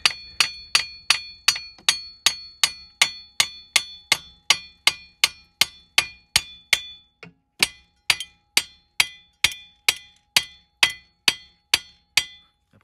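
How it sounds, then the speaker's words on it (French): A hammer strikes metal during a CV joint boot replacement on a car, a long run of sharp, ringing clinks at a steady brisk pace with a single short pause, loud and close with no talk. "Donc ici vous pouvez taper avec un marteau ici là."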